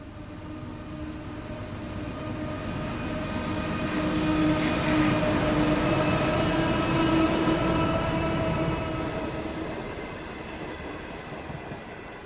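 The Great Southern passenger train rolls past, its rumble and wheel noise building to a peak midway and then fading as it moves away, with faint wheel squeal.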